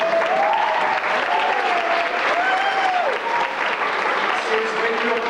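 An audience claps steadily at a retirement party, a dense, loud wash of applause lasting the whole time, with a voice briefly speaking through it.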